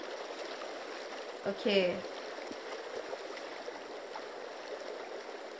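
A flowing stream in Days Gone, a soft steady rush of water running throughout, with a brief louder splash or movement near the start and a short spoken word over it.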